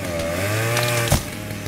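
Loud, steady chainsaw drone from the Mystery of the Ancients game runs throughout, with a brief sharp knock near the end.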